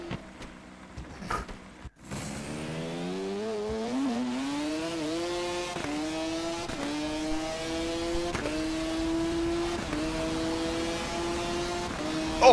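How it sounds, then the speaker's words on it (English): Two-stroke racing motorcycle at the Isle of Man TT, heard from close on board as the engine screams up through the gears with sharp shift breaks, after a short roaring pass at the start. "I have to admit this fucking two-stroke is quick."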